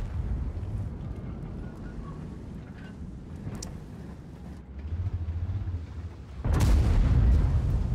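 An E3 tank cannon firing in World of Tanks, a sudden heavy boom that stands out loud and close against the low rumble of engine and battlefield ambience.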